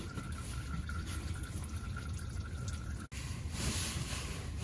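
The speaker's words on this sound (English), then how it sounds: "You wait for this to stop dripping, and then we'll move on to the next thing." Engine oil drains and drips from a 2018 Toyota Highlander during an oil change, a steady, close, soft liquid patter with no one speaking.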